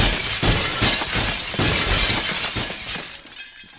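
Glass shattering in the physics ragdoll game Happy Wheels, a loud, dense run of crashing breaks and tinkling shards repeating in quick bursts, alone with no talk, tapering off near the end.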